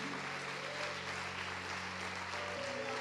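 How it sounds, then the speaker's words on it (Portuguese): Church congregation standing and applauding during a celebration service, a steady wash of clapping filling the room with a low sustained hum of music or organ beneath it, continuous for a few seconds. "Se coloque em pé, dando uma salva de palmas a Jesus."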